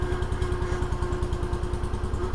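A 1971 John Deere 140 H3 hydrostatic garden tractor idles nearby with a steady, rapid low-pitched putter and a faint rattle, heard alone.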